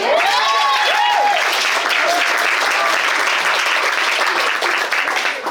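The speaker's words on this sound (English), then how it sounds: "You guys can clap." Loud, sustained clapping from guests at a high school varsity soccer end-of-season party, filling the whole stretch with steady applause while a few voices and cheers rise over it early on, easing slightly at the end.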